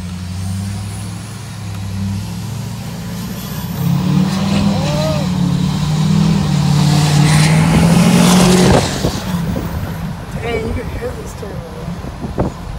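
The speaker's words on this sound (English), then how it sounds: "Dang, you can hear this turbo." A 2015 GMC truck fitted with a turbo and straight pipe accelerates hard, its deep engine roar swelling and holding loud for several seconds before easing off, with voices talking over it.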